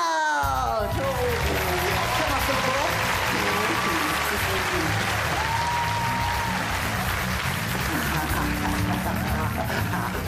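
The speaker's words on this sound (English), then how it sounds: "a big round of your love and applause for my mystical twin brother, Reynard!" Theatre audience breaking into applause to welcome a performer on stage, loud dense clapping sustained for about ten seconds after a voice cuts off at the start, with some cheering in the crowd.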